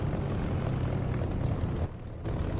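A propeller aircraft taxiing in the DCS flight simulator gives a loud, steady engine drone that dips briefly and then returns, with no voices.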